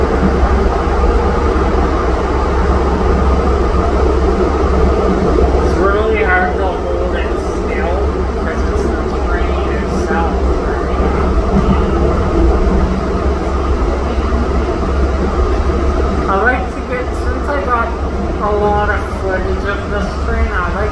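Steady rumble and rattle of a Siemens U2 light rail train riding along the tracks on the CTrain Blue Line, loud and continuous, with a few faint squeals rising above the din.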